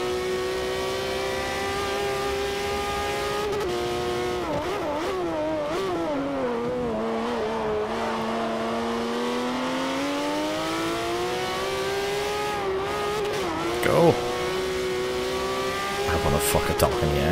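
A Porsche 911 GT3 race car engine in Forza Motorsport 4, revving and shifting through gears with rising and falling pitch, loud and close, with a voice talking over part of it.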